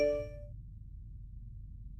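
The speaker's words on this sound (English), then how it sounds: "Received a text message from her phone number." A single bright ding of a phone text message notification, a clear tone at the very start that quickly fades, then a low background hum.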